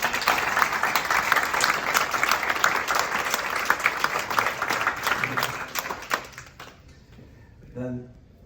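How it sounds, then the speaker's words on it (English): An audience at an awards ceremony for stroke research applauds the project coordinators, with dense clapping that holds steady, then thins and fades out near the end, leaving a few scattered claps. "I'd like an applause for the coordinators."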